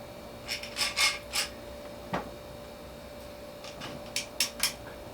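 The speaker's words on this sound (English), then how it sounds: "So I'm going to clamp it with this clamp so that it clamps together nicely." A clamp being tightened on pieces for a round wooden epoxy table gives short rasping, grinding scrapes in two bursts with a sharp click between them, close by and fairly quiet, with no speech.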